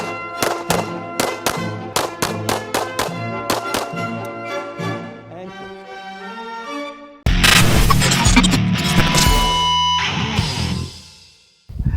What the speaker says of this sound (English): Let's shoot our TPC walls one more time.